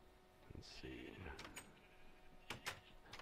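Sheep bleats from the Minecraft video game, a couple of short nasal calls at moderate level heard alongside soft background game sounds, with brief clicks and thumps near the end.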